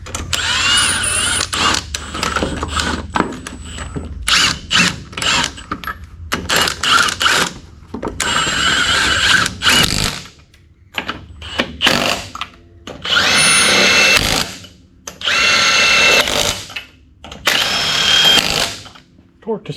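A power tool torques wheel lug nuts to spec on inexpensive Summit wheels fitted to a G-body car, giving a rapid series of loud, short buzzing bursts broken by brief pauses.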